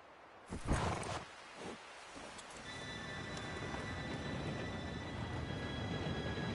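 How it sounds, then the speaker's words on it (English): A train arrives in Red Dead Redemption 2, with a rising, steady rumble of rolling rail cars building over several seconds after a few sharp knocks and thuds near the start. "Train should be here any minute now."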